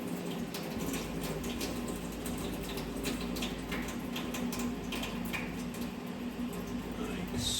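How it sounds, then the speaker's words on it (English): Water pours and trickles steadily as it is drained off the top of an older, fuller bucket of clay reclaim slurry, a continuous close splashing wash with small drips and clinks throughout. "I'm going to drain the water off this one"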